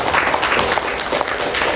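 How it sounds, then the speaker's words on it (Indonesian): Audience applause in a meeting hall at a working conference, a dense, steady wash of many hands clapping throughout, moderately loud with no voices standing out. "saya kasih apresiasi, tepuk tangan dulu untuk Ayahanda Wahidin P."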